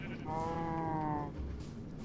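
Sheep bleating from an automatic sheep farm in Minecraft, one wavering game bleat lasting about a second over a quiet background hum.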